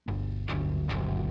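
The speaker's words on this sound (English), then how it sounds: "And then I also have this first guitar pitched down an octave." Low, grungy guitar pitched down an octave, chords strummed in a steady rhythm, deep and heavy, about three strums over a sustained bassy tone.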